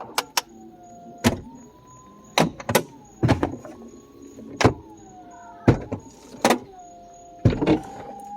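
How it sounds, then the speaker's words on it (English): A 2001 Mercedes SL500 soft top and power windows run in a series of motor whirs. They are broken by sharp clicks and thumps as the roof panels latch, ending with the windows rising. The sounds are close and clear, with no talking. "And the windows follow, obviously."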